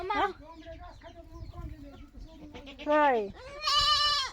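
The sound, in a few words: chickens clucking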